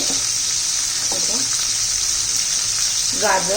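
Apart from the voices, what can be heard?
sautéing vegetables in a pan for masale bhat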